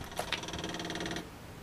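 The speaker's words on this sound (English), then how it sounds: "When it turns off, you hear it click." Sharp mechanical click of a fuel pump relay under the hood switching off, followed by a soft, rapid ticking buzz of the electric fuel pump that cuts out abruptly, faint and close with no voices.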